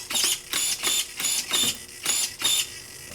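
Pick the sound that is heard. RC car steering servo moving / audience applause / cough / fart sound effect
RC car steering servo moving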